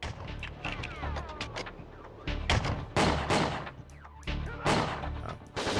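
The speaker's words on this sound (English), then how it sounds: "This idiot's shooting a shotgun from all the way over there." Enemy shotgun blasts in the game Condemned 2, several sharp reports at irregular intervals amid busy combat noise, loud and close.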